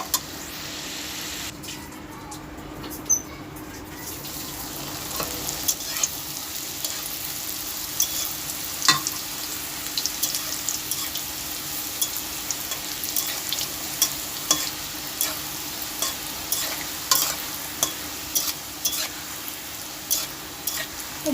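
Nimki dough snacks fry in hot oil with a continuous crackling sizzle, broken by frequent clinks and scrapes of stirring. The sound stays close and moderately loud, with no voices.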